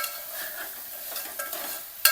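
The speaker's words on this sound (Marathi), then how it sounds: "परतून घ्यायचं छान" A soft sizzle in a pan as lentils and rice for masala khichdi are sautéed, with the scrape of a spoon stirring, ending in a brief sharp clatter.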